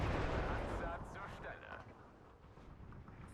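Gunfire from a German Sd.Kfz. 251/9 halftrack in the Steel Division 2 video game, a cluster of sharp booming shots up front that fades into rumbling battle noise.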